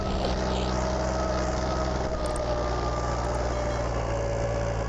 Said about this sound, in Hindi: कितनी स्पीड से चला ट्रैक्टर, लो के तीसरे गियर में भी अपनी चाल चल रहा पूरी रेस को